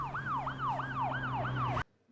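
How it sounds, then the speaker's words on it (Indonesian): A police siren in a film, heard from outside a house, wails in a fast repeating up-and-down sweep over a low steady engine hum, loud and close, cutting off abruptly after about two seconds. "Tiba-tiba terdengar suara sirine dari luar rumah Jerry."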